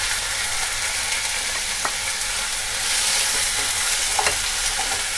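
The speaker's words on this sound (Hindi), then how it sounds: "लहसुन अदरक हरी मिर्च के पेस्ट डाल देंगे, एक मिनट पका लें, उसके बाद टमाटर डाल देंगे।" Tomatoes hitting a pan of frying onion, garlic, ginger and green chilli paste, giving a steady close sizzle with occasional stirring scrapes and no talking.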